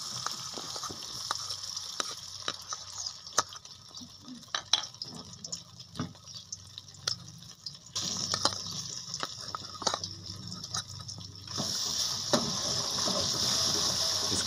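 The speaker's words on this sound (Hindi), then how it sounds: "कढ़ाई में थोड़ा घी डालेंगे और इसके अंदर अदरक और लहसुन का पेस्ट ऐड करेंगे।" Ginger and garlic paste fries in ghee in a kadai for masala okra, making a soft, steady sizzling hiss with occasional clinks of a utensil against the pan. The sizzle grows louder and denser toward the end.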